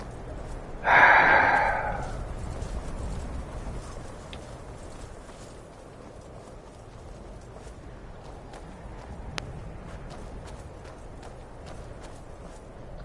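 A horse in Elder Scrolls V: Skyrim snorts loudly near the start, followed by soft hoof clip-clops and quiet ambient noise, with no talking.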